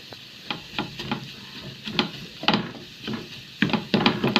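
A ladle scrapes and stirs food in a pan while making egg roll filling, giving repeated sharp scraping strokes in an uneven rhythm over a soft, steady sizzle of frying, close and clear.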